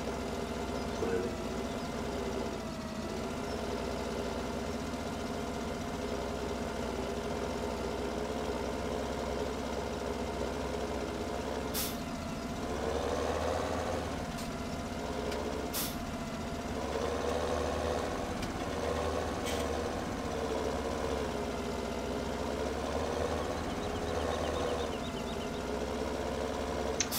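Tractor engine in Farming Simulator 17 running steadily as it drives up and down compacting silage, a continuous low droning hum with slight swells and a few faint clicks.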